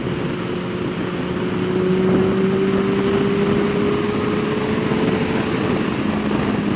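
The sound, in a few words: Kawasaki Ninja ZX14R motorcycle accelerating in sixth gear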